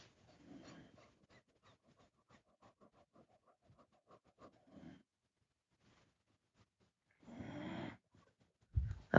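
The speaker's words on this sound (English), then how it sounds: "This is the little dog snoring." A small dog snores softly at close range, a series of faint, evenly spaced breathy snorts in a quiet room, broken by a couple of louder rustling bursts near the end.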